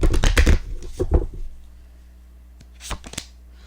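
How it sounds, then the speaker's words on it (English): Cards are shuffled in quick riffling bursts, a flurry at the start, then a pause, then a couple more brief shuffles. "And I'm shuffling the tarot cards as well"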